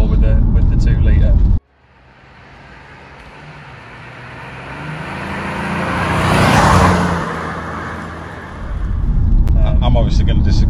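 A Ford Cougar's 2-litre engine hums and swells as it builds speed, growing louder then easing off, without a V6 roar, with people talking before and after.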